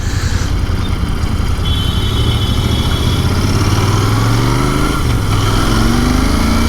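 A Royal Enfield Interceptor 650 motorcycle engine runs with a steady, low, throbbing drone close by, its pitch rising slightly as it picks up speed, with rushing wind over it and no talk.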